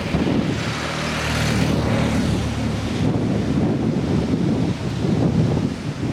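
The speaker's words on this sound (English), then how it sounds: "wind's dropped a little bit, so I hope you can hear me." Steady wind blowing over the Sound of Arisaig on the Scottish coast, a loud continuous roar buffeting the microphone, with a faint hint of surf beneath and no voices.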